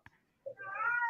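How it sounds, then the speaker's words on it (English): A house cat meows indoors, a short faint chirp followed by a longer, louder rising meow that fills the second half. "Is that your cat?"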